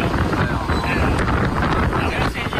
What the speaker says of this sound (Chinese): 现在是刚开始起风啊，刮风下雨